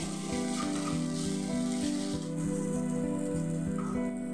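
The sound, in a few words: onions with garlic and ginger paste frying on medium flame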